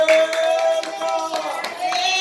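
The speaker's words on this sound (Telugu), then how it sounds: "చప్పట్లు కొట్టి హల్లెలూయా" A church congregation at a prayer gathering claps hands in a quick, uneven run of sharp claps, fairly loud and close, with a sustained tone from the sound system behind.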